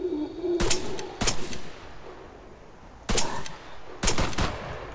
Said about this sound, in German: Zwei Schüsse braucht so ein Zombie.